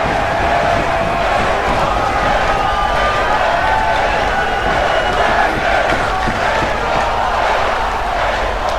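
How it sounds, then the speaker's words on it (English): A wrestling arena crowd in the WWE 2K video game roars steadily, with sustained cheering and chanting forming a dense, continuous wall of noise from start to finish. "Crowd continuing to hype up HOH as he goes back up to the top rope."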